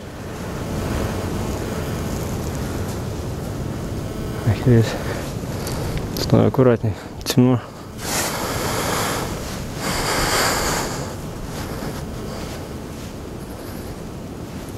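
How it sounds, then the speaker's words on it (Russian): Strong wind roars and buffets the microphone in continuous gusts, with someone speaking briefly in the middle of the rushing noise. "Вот это ветрюга, чуть не упал"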